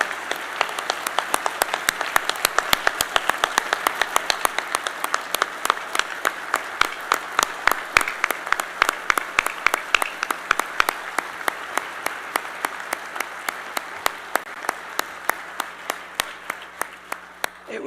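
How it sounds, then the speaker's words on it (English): A large audience at the Economic Club of New York applauds after President Trump's speech, dense sustained clapping that gradually thins and fades toward the end, with a few sharp individual claps standing out. "Let's give him a applause."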